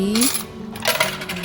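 Several tokens clatter down through a Japanese vending machine's coin chute, a quick run of close metallic drops and jingles with no talk over them.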